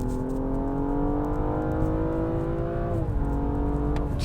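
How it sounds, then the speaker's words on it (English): A turbocharged BMW M235i/M240i engine revs hard under acceleration, a loud, steady rising drone heard from inside the car, dipping briefly as the revs settle near the end. "This thing revs real high, and it revs really quick, even for a turbocharged engine"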